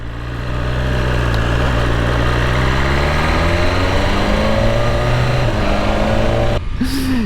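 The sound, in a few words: BMW S1000RR motorcycle engine idling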